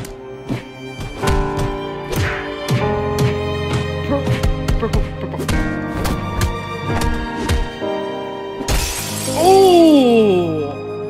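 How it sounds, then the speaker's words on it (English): Glass shatters in an Animation vs Minecraft fight scene, a loud burst of breaking near the end, following a dense run of punches, thuds and music, then sliding descending tones. "Oh, he broke through the glass."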